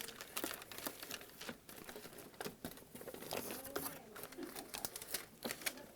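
Reflective tape on a Solatube SolaMaster 750 tube being pulled and pressed into place at the transition box, a close run of dense crinkling, crackling and tearing noises that goes on throughout.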